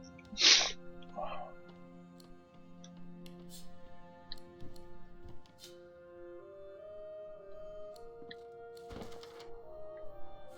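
A single sharp sneeze bursts out near the start, loud and close, followed by a softer breathy after-sound. Quiet tonal music and light clicks continue afterward.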